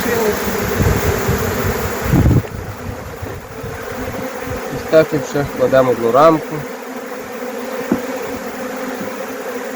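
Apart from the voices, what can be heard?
swarming honey bees buzzing around a hive trap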